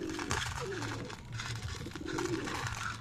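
Pigeons coo steadily at feeding time in a loft of breeder and flyer birds, soft repeated low calls blending under a busy, noisy background with some faint voices.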